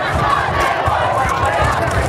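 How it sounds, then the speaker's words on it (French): Crowd at a school football tournament in Sucy-en-Brie, a steady, fairly loud roar of cheering spectators with voices mixed throughout, continuous across the short stretch. "On entend la foule là"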